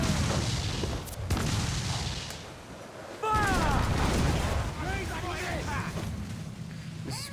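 Naval fort cannons in Assassin's Creed 4 Black Flag boom amid a roaring sea battle, dense rumbling blasts layered with crashing noise and whistling projectiles, loud and continuous.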